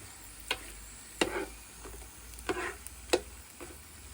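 Danggit dried fish frying in a pan, a soft steady sizzle under repeated scrapes and clinks of a utensil stirring and turning the fish at close range.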